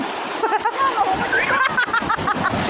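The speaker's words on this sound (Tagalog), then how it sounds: "Antayin natin ang malaking alon pumunta dito." An ocean wave splashes ashore with a steady, close rush and slosh of churning water. Several people talk over the water throughout.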